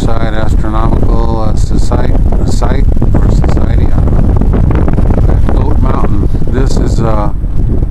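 Strong desert wind in Landers, California buffets the microphone outdoors with a loud, constant low roar and gusty rumble, while someone talks over it throughout.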